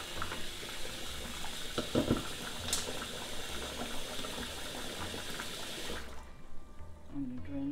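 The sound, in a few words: cold tap water running onto rice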